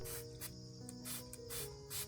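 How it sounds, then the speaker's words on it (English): A spray bottle mists nutrient solution over orchid leaves in a series of short, bright bursts, several in quick succession, close by and alone. "When spraying the solution on the plant, I make sure to cover both the upper and lower sides of the leaves"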